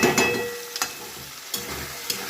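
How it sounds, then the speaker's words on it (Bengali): Spice paste for potol chingri stirred in a pan with a little added water, giving a soft steady sizzle broken by a few distinct scrapes of the spoon against the pan. "এবার হালকা করে ভালো করে এটা নেড়ে নেবো জিনিসটা"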